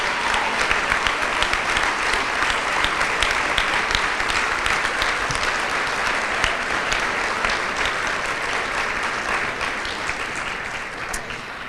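Sustained applause from an audience at an awards dinner, dense clapping from a large room that holds steady and then tapers slightly toward the end.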